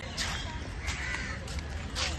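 Several harsh crow caws ring out at intervals at Rani Baug zoo in Mumbai, over a steady background rumble, fairly close and loud.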